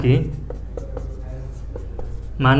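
Faint scratches of handwriting as a Class 10 math solution is written out, soft strokes between stretches of nearby speech at the start and end.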